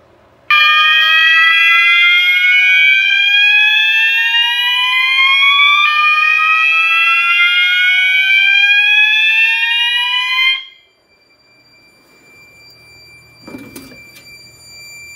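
A fire alarm system sounds during a smoke detector test: loud, repeating upward-sweeping electronic whoops for about ten seconds, then it cuts off abruptly, leaving a quiet room and a single dull knock.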